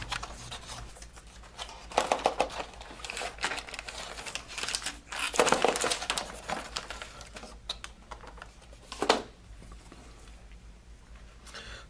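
Close crinkling and rustling as a Blood Red Skies A6M5 Zero squadron game box is opened and unwrapped, with bursts of plastic and cardboard handling, shuffling and scraping, louder around the middle and a sharp crinkle near the end.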